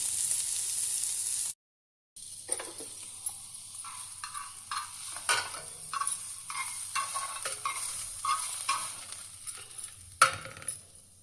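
Instant paneer tikka frying in a pan, a steady close sizzle with repeated stirring scrapes and light clinks, continuing after a brief silent gap near the start.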